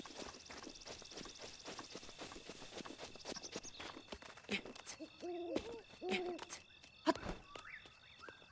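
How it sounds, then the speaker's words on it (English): Birds calling and an owl hooting in the video game Zelda Breath of the Wild, soft repeated hoots mid-clip over footsteps and faint ambient noise. "Even though I hear birds."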